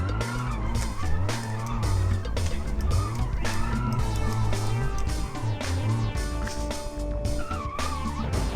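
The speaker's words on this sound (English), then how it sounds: "That heavy-duty diesel engine's loving it." A three-wheeler with a heavy-duty diesel engine and nitrous climbs a steep, dangerous hill, its engine droning and revving hard throughout with rising and falling pitch and some tire scrabble, loud and close.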